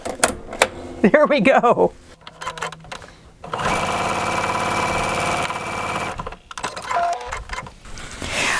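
A Vesta sewing machine runs in a steady, fast mechanical burst while stitching a French seam, preceded by brief talk and clicks of threading the needle; a voice speaks briefly before the sewing starts and again near the end.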